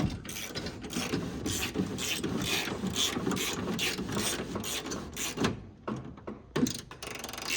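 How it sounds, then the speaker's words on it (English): Window crank on a 1968 Dodge Coronet turned with a socket welded onto the handle, a continuous rhythmic grinding and ratcheting rub of the regulator gears, close up and moderately loud with a short pause near the end. "it might take a minute to roll your window down, but at least it works great."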